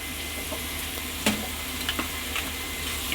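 Pav bhaji vegetables cooking with three spoons of pav bhaji masala fry in a pan with a soft, steady sizzle, broken by a few sharp scrapes and knocks as the mixture is stirred.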